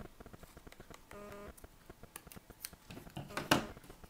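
Scissors trimming the edge of paper for a handmade greeting card, a series of crisp close snips and short cuts spread unevenly over a few seconds, with light handling noise between them.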